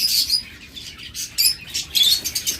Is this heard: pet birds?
yes